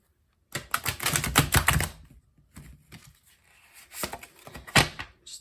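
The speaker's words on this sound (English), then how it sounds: "I want to shuffle again." Tarot card decks shuffled by hand, a rapid riffling and flapping clatter in two dense bursts separated by softer handling noises, close and fairly loud with no talking.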